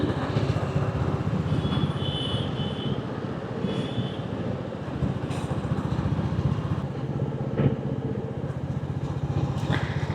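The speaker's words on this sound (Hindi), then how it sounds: "मैंने नोटिस किया रॉयल एनफील्ड को हायर गियर पे चलाओ ना स्लो स्पीड पे, तो इसकी वो दुक दुक दुक दुक दुक दुक दुक दुक आवाज़ आती है" A Royal Enfield motorcycle runs at low speed in a high gear, its engine giving a steady, continuous thumping drone throughout, close and even, with faint traffic noise around it and no talking.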